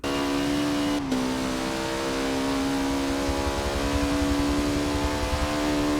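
Caterham R500 Superlight engine screaming at high revs on a fast lap in Forza Motorsport, a steady loud drone with a quick gear shift near the start and tyre noise underneath.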